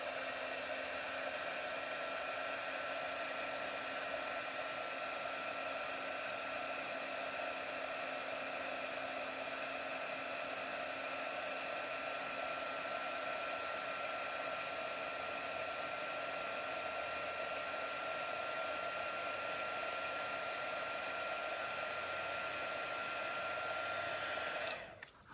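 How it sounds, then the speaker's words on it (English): An embossing heat tool for card-making runs continuously for about 25 seconds, a steady close whine with a hair-dryer-like airy rush and a constant tone, then cuts off abruptly at the end. "I'm going to get out the heat tool and heat this up."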